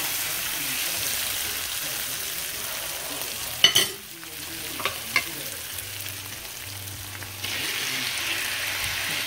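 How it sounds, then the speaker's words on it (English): Ackee stirred with a fork into saltfish cooking with cooked-down tomatoes gives a soft continuous sizzle, broken by a sharp clatter of utensil on pan and a few light taps, close and fairly quiet, with no speech. "And with a fork, I'm gonna mix it in."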